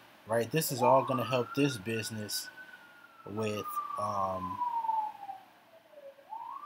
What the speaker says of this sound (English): again, excuse the sirens in the freaking background